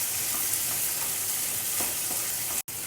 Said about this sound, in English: I am also adding 1 dry red tomato sliced. Just fry it till the tomatoes become a little soft.